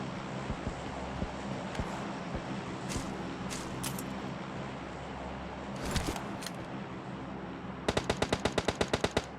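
Gunfire rings out in the mobile battle royale game BGMI. Scattered single shots crack over a steady windy ambience, then a rapid burst of about ten evenly spaced automatic shots closes the sequence.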